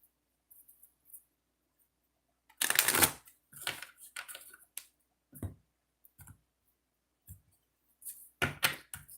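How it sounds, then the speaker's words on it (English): Close-up shuffling of tarot cards in a few quick riffling bursts, with soft clicks and taps between them. "2 shuffles."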